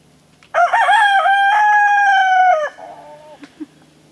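A rooster on a homestead lets out one loud, close crow lasting about two seconds, followed by a few soft clucks from chickens nearby.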